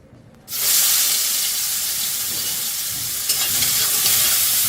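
Shrimp coated with salt and turmeric are dropped into hot oil, setting off a sudden loud, steady sizzle that keeps crackling close up without any voices.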